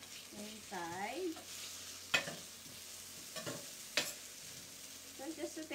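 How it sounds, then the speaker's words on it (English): Ginger and garlic frying in a 12-inch Saladmaster electric skillet with leftover pork adobo, a quiet steady sizzle with a few sharp clinks of a utensil and light stirring, heard close and without speech. "So just saute a little bit, you know, to make the ginger and garlic a little brown."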